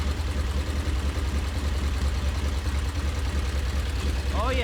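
A 1925 Super-X Super Sport motorcycle engine runs in a steady, low, throbbing drone, close and continuous with a slight rhythmic pulse throughout.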